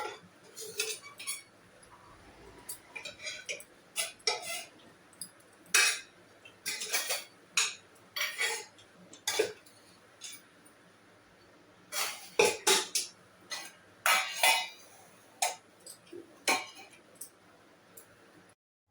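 Kitchen dishes and utensils, including a dal pressure cooker and a kadhai, clatter and clink as they are emptied and washed, in irregular bursts of metal and glass knocks, close and loud with quiet gaps between.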